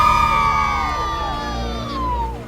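Students at American Fly School shout and cheer together as a loud, sustained crowd, with high whoops and yells rising over the steady roar for a couple of seconds.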